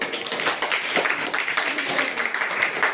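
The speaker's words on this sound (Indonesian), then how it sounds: "Beri tepuk tangan buat kelompok 1" Students in a school classroom clap for the first group after its presentation, a moderate, uneven patter of applause with some voices mixed in.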